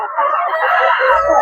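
Chickens cluck and crow steadily in a backyard coop while eggs are gathered, a dense, continuous flock chatter close by with no speech over it.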